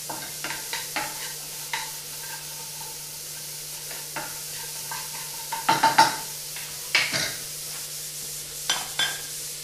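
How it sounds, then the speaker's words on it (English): Red onions sizzle in a hot dry pan with no oil, a steady broad hiss under a low hum, broken by scraping stirs and clinks that bunch together near the middle. "No oil, nothing. Just some red onions put right in there."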